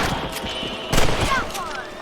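A single gunshot in Red Dead Redemption while hunting rabbits on a ranch, a short sharp crack about midway, set against steady outdoor game ambience.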